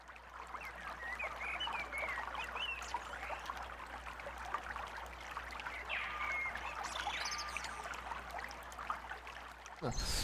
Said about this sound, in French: mélanger des bruits d'oiseaux de nos régions avec des bruits d'oiseaux de forêts cambodgiennes et amazoniennes